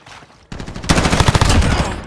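Rapid automatic gunfire from the video game Call of Duty Modern Warfare breaks out loudly after a quieter moment, a dense burst of close shots that keeps rattling to the end.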